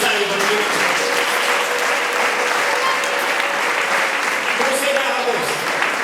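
A church congregation claps steadily and densely throughout, a continuous wash of many hands with voices rising faintly above it.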